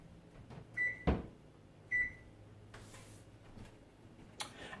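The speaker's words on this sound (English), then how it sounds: "I'm going to preheat the oven" An oven being set to preheat to 350 degrees: two short electronic beeps with button presses and a sharp click between them, then faint handling noises, quiet and close.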